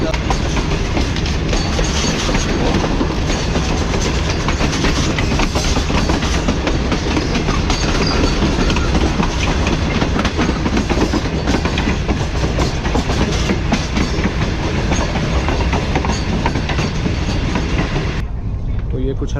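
Tezgam passenger train running steadily out of Multan, a continuous loud rumble of wheels and coach rattle with rhythmic clatter throughout, heard from inside a business class coach.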